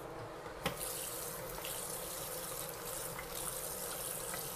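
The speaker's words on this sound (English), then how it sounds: "Washing my hands would make a big difference, too." Water runs steadily from a tap while hands are washed, a continuous close gush with faint splashes and one sharp knock early on.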